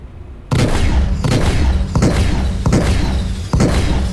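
Ship cannons firing in the video game Star Citizen: a rapid, steady string of heavy thudding shots, about one every two-thirds of a second, loud and close after a brief quieter start.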